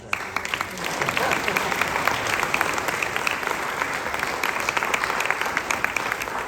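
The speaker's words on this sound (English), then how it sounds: "Can we get another round of applause?" A round of applause follows a teen panel discussion at a cleft conference, with steady crowd clapping that swells quickly and holds for several seconds.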